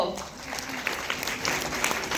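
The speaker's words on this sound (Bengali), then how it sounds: "সবাই একটু বড় বড় করে হাততালি দাও গো" Audience applause at a university program at Jadavpur University: a steady patter of many hands clapping at moderate loudness, mixed with voices talking and calling out over it.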